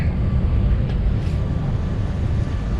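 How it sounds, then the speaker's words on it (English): Strong wind buffeting the microphone aboard a sailing boat at sea, a continuous loud low rumble with gusty roughness and no speech. "This wind is a bastard in the inside of these points"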